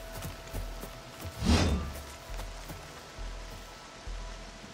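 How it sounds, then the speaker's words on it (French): Rain falls in the video game Horizon Forbidden West as a steady hiss of drops on surfaces, with a louder gust-like swell and scattered dull thumps beneath. "Ah, le drama avec la pluie."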